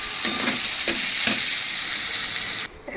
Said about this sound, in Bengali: এবার এটাকে আমি নাড়া যাচ্ছি